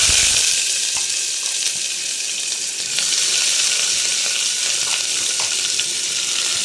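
Onions frying in a pan at the start of a mutton curry, a loud, continuous close-up sizzle and hiss that holds steady throughout with no voices.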